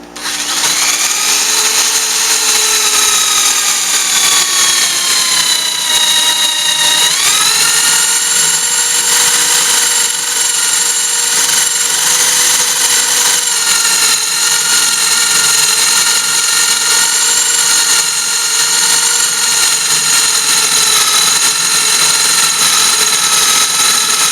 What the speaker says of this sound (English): now we're going to try drilling a hole all the way through this